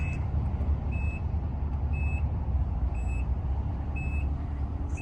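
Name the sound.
power liftgate opening on a 2012 Nissan Murano SL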